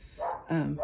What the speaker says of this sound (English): I'm sorry if you can hear my dogs barking in the background.